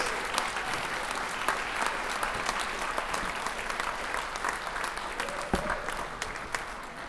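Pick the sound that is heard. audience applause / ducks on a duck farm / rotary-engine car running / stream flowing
audience applause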